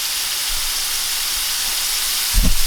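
French fries frying in hot oil give a steady, even hiss of sizzling, with a brief low bump of bubbling near the end.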